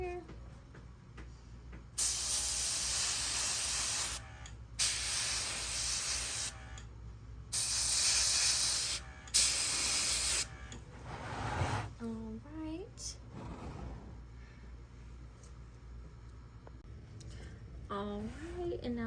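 Bursts of aerosol spray paint hissing onto a taxidermy squirrel, several sustained sprays of a few seconds each separated by pauses, close and loud, with quieter handling noises and a few brief squeaks in between.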